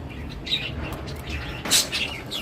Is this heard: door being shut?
no